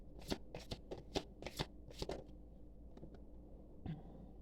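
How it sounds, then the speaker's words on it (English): A deck of tarot cards is shuffled nearby in quick, crisp riffling bursts, followed by a few scattered soft taps as the cards settle, with no talking. "I'm going to go ahead and shuffle the cards."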